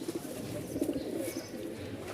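Soft, low pigeon cooing close by, a short burbling call over a faint background hum.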